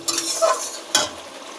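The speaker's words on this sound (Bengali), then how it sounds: "এই যে মাংস দিয়ে দিয়েছি, দিয়ে এবার মিনিট 5 একটু নাড়াচাড়া করবো, করে একটু কষাইয়ে নেব।" A spoon stirs meat frying in an onion, ginger and garlic spice paste, giving soft scrapes and a sizzle, with a second sharp stir near the end.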